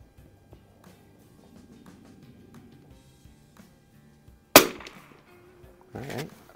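A 1961 Winchester 52C rifle fired at a target at a range: one sharp, loud crack midway, followed by a second, softer report near the end, over quiet background shuffling.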